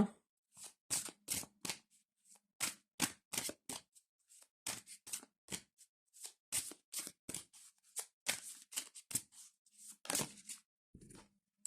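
Oracle cards being shuffled by hand for a card reading, a long run of quick papery riffles and slaps in irregular bursts, close and fairly quiet, with no talking.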